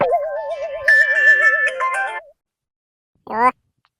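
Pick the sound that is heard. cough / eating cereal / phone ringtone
phone ringtone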